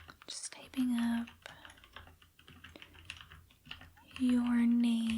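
Keys on a computer keyboard clatter in quick soft taps at close range in a quiet room, with low soft-spoken talk in between.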